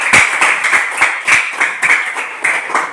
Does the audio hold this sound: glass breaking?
no